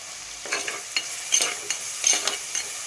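Tomatoes sautéing with rock salt for a prawn gravy, a steady soft sizzle broken by several sharp spoon scrapes and taps against the pan, close up, with no one talking.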